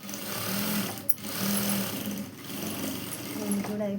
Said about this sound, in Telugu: రెండో కుట్టు వేసుకోవాలి.